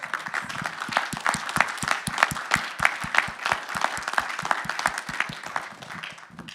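Applause at a city council meeting in Brentwood, California: a room of people clapping steadily, with sharp individual claps standing out close by, then tapering slightly at the end.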